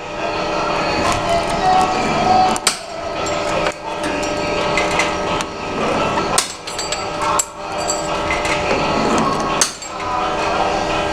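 Homemade shears built from scrap metal cut through 1 mm sheet metal, giving a loud, continuous grinding and scraping with repeated sharp clanks and snaps as the blade is worked down in strokes.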